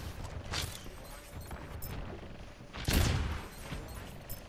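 Two sharp, loud sniper rifle cracks in a shooter video game, one early and a stronger one near the end, each decaying quickly over a low background.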